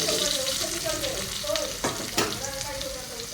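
Potatoes fry in a pan, a loud continuous sizzle of hot oil with a few sharper crackles and spatters partway through, steady and close throughout.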